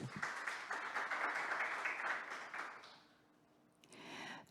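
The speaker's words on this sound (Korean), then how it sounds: "다시 한번 박수 부탁드리겠습니다" Audience applause at a workshop session, a few seconds of steady group clapping that fades out into near silence before a short burst of faint noise near the end.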